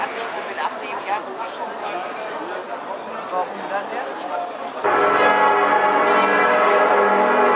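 Church bells ring out loudly in Osnabrück, a rich ringing peal with echo that swells and grows steadier partway through, over faint outdoor crowd murmur.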